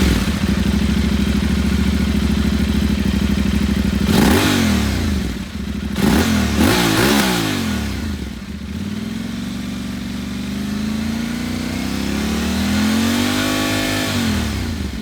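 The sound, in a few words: Aprilia Tuareg 660 motorcycle engine revving with aftermarket muffler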